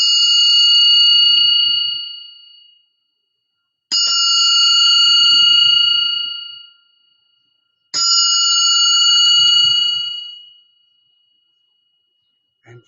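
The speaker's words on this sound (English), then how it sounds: "ring the little bell 3 times" A small bell rings three times, each clear metallic ding evenly spaced about four seconds apart and left to ring out and fade before the next strike, loud and close with no talk.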